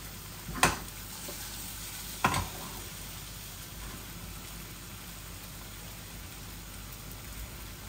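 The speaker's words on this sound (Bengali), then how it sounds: "ঢেকে ঢেকে এইগুলা এই ভুনা করে ফেলবো।" Meat and potato bhuna frying in a pan gives a steady, soft, close sizzle throughout, with two sharp clanks early on. No voices are heard.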